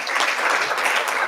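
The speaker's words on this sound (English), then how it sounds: "Please, a round of applause to" An audience at a radiologists' conference applauds its panelists in a short burst of dense clapping, moderately loud and spread across the room.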